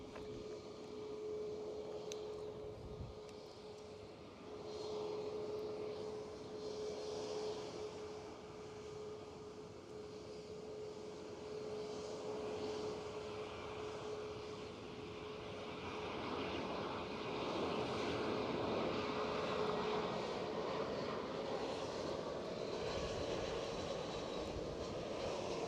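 A British Airways Airbus A319 arrives at Edinburgh Airport, its jet engines a steady, moderately distant roar with a faint whine, building slightly over about twenty-five seconds.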